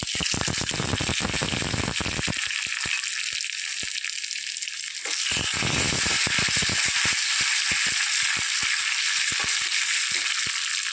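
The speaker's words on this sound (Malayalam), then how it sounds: "ഉള്ളി പച്ചമുളകൊക്കെ മൂത്ത് വരട്ടെ" Small onions and green chilies fry in hot oil for a jackfruit seed and drumstick leaf curry. A constant close hiss of sizzling runs throughout, dotted with frequent sharp crackles and pops.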